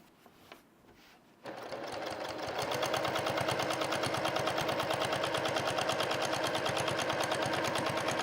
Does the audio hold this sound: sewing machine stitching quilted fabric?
yes